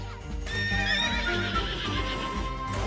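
A horse in the video game Princess Peach: Showtime!, whinnying loudly with clip-clop hoofbeats and playful game music underneath.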